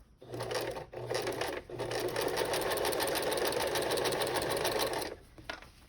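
A sewing machine stitches over a thick, multi-layered tote bag handle, with a few single slow stitches followed by a steady rapid mechanical chatter that runs for about three seconds and then stops.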